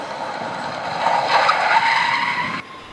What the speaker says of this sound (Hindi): गाड़ी रोको। क्या हुआ सर, गाड़ी क्यों रुकवाई?